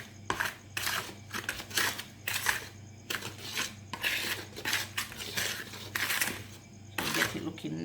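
Mixer blade scraping and stirring cake batter for a homemade chocolate cake in a bowl, a run of repeated scrapes and clinks close by, with a steady low hum underneath and no talking.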